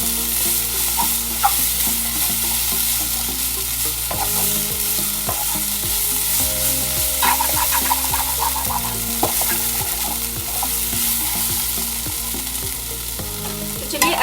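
A pan of potato and fenugreek curry with coarse chili powder being stirred and fried, steady sizzling under repeated scraping strokes of a spoon across the pan, close and continuous with no talking.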